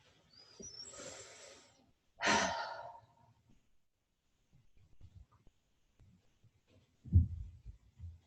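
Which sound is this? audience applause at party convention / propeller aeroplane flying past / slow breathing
slow breathing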